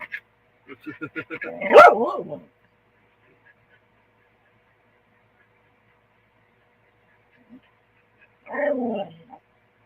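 Dogs barking in an outdoor setting under an awning: a burst of several sharp barks near the start, then quiet, and another short bark cluster near the end, fairly close.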